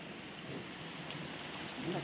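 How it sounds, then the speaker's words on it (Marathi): Steady rain patters continuously with a broad hiss, fairly close, with no talking over it. "आता पाऊस येतोय"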